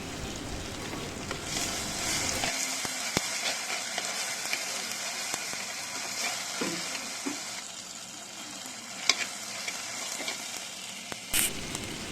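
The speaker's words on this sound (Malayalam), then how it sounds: "തക്കാളി ചേർത്ത് കൊടുത്ത് തക്കാളിയും ഉള്ളിയും നന്നായിട്ട് വഴറ്റിയെടുക്കണം" Tomato and onion sautéing in a pan for a prawn curry, a continuous close sizzle with occasional clicks and scrapes of stirring, no voices.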